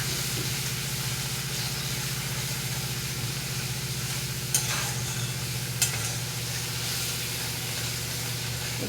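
Pointed gourd coated in chilli, cumin and turmeric powders sizzles in a frying pan as it is stirred: a constant soft hiss with two brief clinks of the spatula against the pan partway through.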